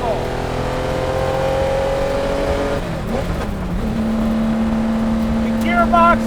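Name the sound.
Le Mans race car engine loud in the cockpit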